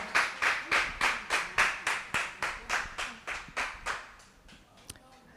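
An audience at a book launch claps in steady unison to welcome a guest, about a dozen crisp rhythmic beats that loosen and fade into scattered claps near the end.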